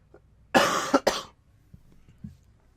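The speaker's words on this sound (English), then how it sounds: "Cough, cough." A person coughs, a short, sharp burst of about three close coughs in quick succession, followed by a few faint throat noises, with no talk.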